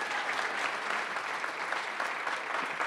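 Steady applause from a town hall audience at a university gathering, an even wash of many hands clapping throughout with no break or voices standing out.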